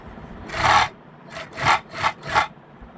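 An overlock sewing machine, with its face cover fitted after a tension adjustment, runs close by in short bursts: one longer run followed by four quick ones, with a buzzing, rasping whir.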